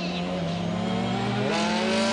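A WRC rally car leaves the start line of the Haguenau special stage in Alsace, its engine droning steadily and close, then climbing in pitch as it pulls away.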